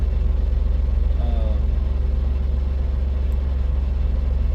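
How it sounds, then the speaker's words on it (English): A truck engine idles steadily nearby, a deep constant rumble with a faint whine, running alone without talk. "the truck just started up. Probably gonna be loud."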